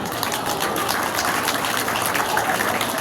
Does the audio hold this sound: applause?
yes